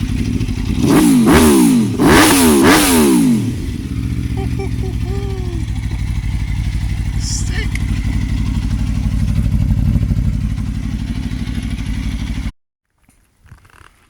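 A 2023 BMW S1000RR sport motorcycle engine revs hard several times up close, then settles into a loud, steady rumbling idle before cutting off abruptly. A voice says a word near the end.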